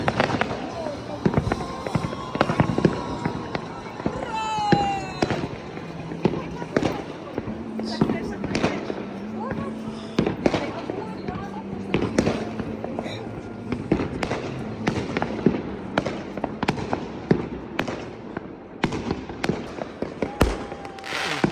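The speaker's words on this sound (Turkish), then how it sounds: "Ufacık şehirde bile halen dehşet bir fişek gösterileri var yani." A New Year fireworks display bursts overhead in the small Russian town of Dakhovskaya, with repeated crackling bangs and a few whistles, some near and some distant, and voices in the background.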